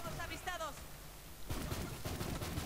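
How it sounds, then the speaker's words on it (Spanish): In Borderlands 3, the Superball gun fires bouncing balls, heard as faint rapid bursts of shots starting midway, after a brief electronic chirping tone, the whole thing quiet and distant. "Dispara bolas que rebotan en múltiples superficies"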